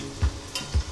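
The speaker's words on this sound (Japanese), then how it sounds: "ガーリックオイルを作っていきます。" Garlic oil sizzles in a tilted frying pan with a soft, steady crackle, joined by two low thumps of a utensil against the pan, close and moderately quiet, with no voices.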